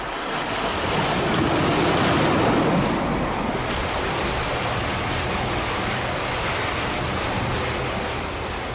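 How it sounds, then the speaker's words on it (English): Turbulent river water thundering through the Yangtze gorge beneath towering cliffs, a loud, dense, unbroken roar that fills the scene with a slight swell early on and no voices. "The result is turbulent waters thundering against towering precipices."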